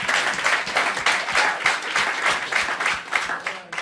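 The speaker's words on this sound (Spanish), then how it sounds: "Dale un aplauso" An audience in a church discipleship class breaks into steady, dense applause lasting several seconds, with many hands clapping at once and no clear voices over it.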